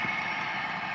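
A Class 67 diesel locomotive engine idles steadily in a train simulator game, a continuous droning hum with a constant tone and level, heard alone without speech.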